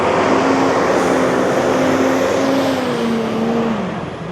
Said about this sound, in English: And that bus is extremely noisy.